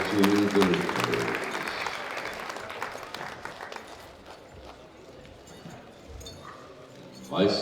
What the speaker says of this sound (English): Round of applause to the lifters.